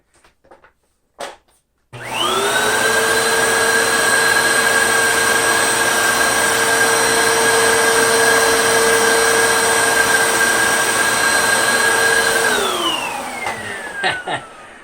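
Dyson DC14 or Hoover Windtunnel vacuum cleaner on its low-carpet setting working a thick doormat: a steady, loud motor whine with sustained pitch for about ten seconds, then spinning down, after a few brief clicks at the start.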